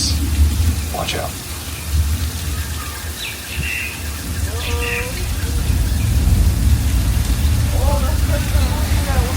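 Simulated rainstorm pouring onto a Universal Studios backlot street set, a steady loud wash of falling water with scattered chirps and squeaks over it.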